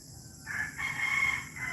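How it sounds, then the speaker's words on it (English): Rhode Island Red and native chickens in a backyard pen in Bohol, Philippines, with a rooster crowing once, a sustained mid-pitched call held for about a second over quiet low background noise. "we got our Rhode Island red chickens and got a bunch of native chickens running around"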